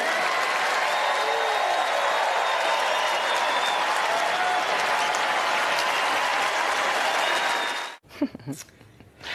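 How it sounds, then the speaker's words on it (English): Sustained, dense audience applause at the Oscars ceremony, honoring Meryl Streep, roars evenly for about eight seconds as a loud wash, then cuts off abruptly to quieter room noise. "Everybody, please join me in giving Meryl Streep a totally undeserved round of applause, will you?"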